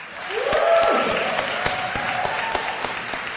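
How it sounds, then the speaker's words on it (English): A livestreamed awards show audience applauds the nominees with scattered claps and cheers. A rising whoop-like tone cuts through early, and individual hand claps stand out in a moderate, ongoing round. "let's do a round of applause for all these amazing talents"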